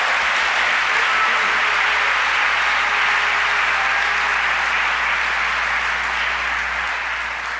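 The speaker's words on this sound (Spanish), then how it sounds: "Démosle ese aplauso al Señor." Sustained, dense applause from a church congregation during a Sunday Messianic worship service, loud and steady throughout and fading slightly at the end.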